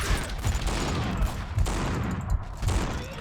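Repeated heavy shotgun blasts in the video game Max Payne 2, about five spaced roughly half a second to a second apart over a constant noisy background.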